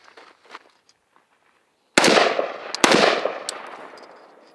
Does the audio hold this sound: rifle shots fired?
yes